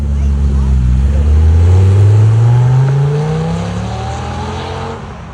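An early-1990s Dodge Viper V10 revs loudly and close by. The deep engine note climbs steadily in a rising sweep, holds high, then eases off toward the end against outdoor car-show ambience.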